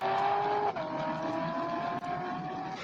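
A car rigged with nitrous roars past a patrol car at high speed in a steady, loud engine drone with a sharp pitch drop as it passes and another brief shift moments later.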